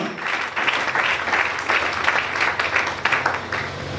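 A church congregation applauds during a French-language worship service, a dense, steady patter of many hands clapping together throughout, fairly close and loud, with no clear talking.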